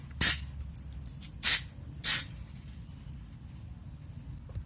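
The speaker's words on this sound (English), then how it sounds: "Can't find the straw for my carb cleaner, so I'm just gonna do it like this." A can of carb cleaner sprayed without its straw into a Briggs and Stratton lawnmower carburetor gives three short, sharp, close hissing bursts separated by quiet pauses.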